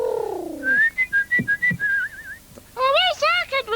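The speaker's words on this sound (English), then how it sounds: "could you whistle a little more softly? It's putting me off." Someone whistles a wavering tune, first a sliding high note, then a run of short repeated notes and finally a fast warbling trill, loud and close, in a 1994 children's television show, with a voice briefly heard at the start.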